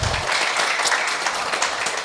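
Brief audience clapping during a business presentation, a dense steady patter of many hands lasting about two seconds with no voices over it.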